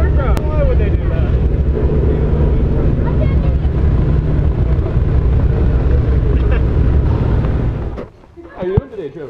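Loud, steady engine roar and rushing wind fill the inside of a skydiving aircraft before a jump, a constant dense drone that suddenly cuts off near the end, with voices faintly under the noise.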